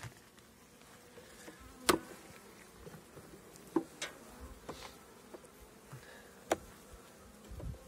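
Honey bees buzz steadily around an open hive during a beginner's first spring inspection. A soft continuous hum runs throughout, with a few sharp clicks and knocks from frames and hive tools.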